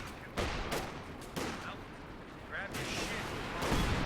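Tank cannon shells and gunfire from Company of Heroes 2, a P4 and an EZ8 trading shots, come as a few sharp bursts over steady background noise, with a commentator talking throughout.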